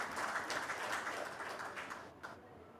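Audience clapping at a valedictory function, a steady faint wash of many hands that thins out and fades toward the end.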